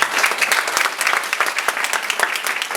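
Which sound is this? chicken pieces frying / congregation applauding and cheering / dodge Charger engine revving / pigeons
congregation applauding and cheering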